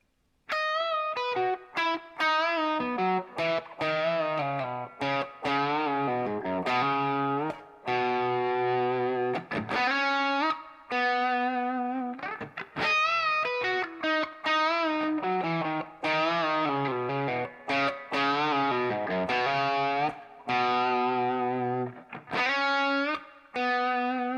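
A distorted electric guitar plays a flowing rock melody, repeating the phrase several times with steady, sustained notes and no talking.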